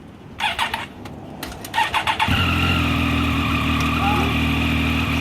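A 2018 Triumph Street Triple RS 765 motorcycle at a dealership fires up after a few starter bursts and settles into a strong, steady idle close by, with people talking briefly beforehand.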